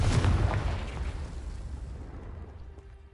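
A single heavy explosive blast from the Confringo spell in Hogwarts Legacy, a deep booming burst at the start that rumbles and fades away over a few seconds.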